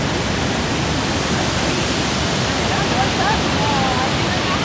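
Waterfalls roar at night in a steady, dense rush that fills the scene without a break, with faint voices and whistle-like tones drifting in toward the end.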